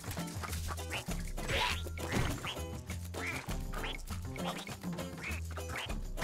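Repeated cartoonish duck quacks from the video game Rayman Legends, several in a row over busy game music and sound effects, fairly prominent.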